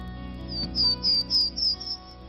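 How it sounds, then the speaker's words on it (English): Songbirds sing in spring at Eufaula National Wildlife Refuge in Alabama: a quick run of five or six bright, high chirps, close and clear over a steady low background hum. "By mid-spring, the refuge is alive with bird songs"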